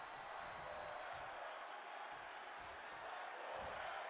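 An arena crowd roars in the WWE 2K22 wrestling video game, a dense, steady wash of distant cheering and shouting that swells slightly, faint and without clear voices on top.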